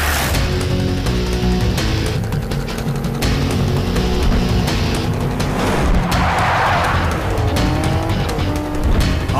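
A car roars at high speed in a movie chase, loud engine revving with screeching tire squeals and skids over a dense, continuous soundtrack.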